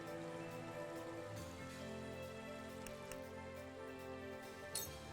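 Rain spell cast in the tactical RPG Triangle Strategy, a steady hiss of falling rain spread evenly across the whole stretch under a continuous music bed, with a brief bright splash near the end.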